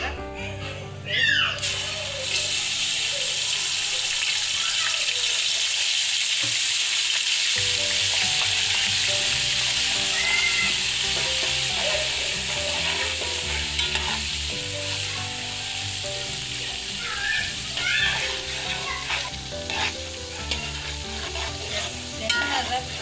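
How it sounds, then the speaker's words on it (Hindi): Garlic-ginger paste frying and being stirred in hot oil in a pan for chicken pulao, a loud steady sizzle with scraping stirs throughout, and faint children's voices in the background. "लहसुन अदरक फ्राई हो गया"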